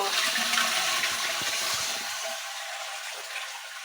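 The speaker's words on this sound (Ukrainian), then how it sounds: "Я вже змиваю." A toilet flushes in a small house, a loud rushing gush of water that fades into quieter refilling trickle over a few seconds, with no talking.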